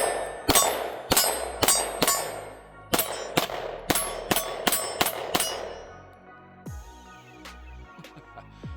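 An HK CC9 compact 9mm pistol fires outdoors in the cold: about a dozen sharp, loud shots in quick irregular bursts, each with a short metallic ring, followed by quieter clanks.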